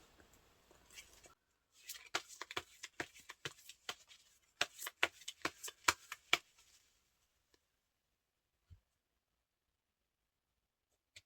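Tarot cards shuffled in quick bursts of crisp, clustered flicks and taps, then a few isolated soft clicks as cards are drawn and laid down in near silence.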